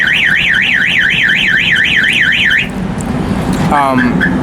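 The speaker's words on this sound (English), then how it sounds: "Got in a car alarm going off." A car alarm wails nearby in a loud, rising-and-falling siren pattern, then cuts off and switches to a rapid chirping tone.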